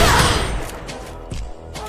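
Gunfire in the Free Fire mobile shooter game, heard during a one-on-one match: a loud burst of shots at the start, fading into a few softer thumps and clicks.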